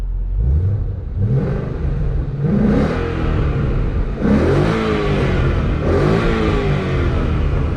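A Ford Mustang GT with a 5.0 V8 and an MG Motorsport active exhaust revs loudly and close, several rising throttle blips swelling over a steady deep idle rumble.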